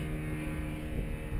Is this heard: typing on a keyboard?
no